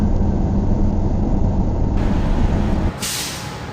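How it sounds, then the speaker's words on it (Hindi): A bus engine rumbles steadily at night, then a sharp air-brake hiss bursts out near the end as the vehicle slows and comes to a stop beside a deserted petrol pump. "बस धीरे धीरे रफ्तार कम करती है और रात के सन्नाटे में एक सुनसान पेट्रोल पंप के सामने आकर रुक जाती है"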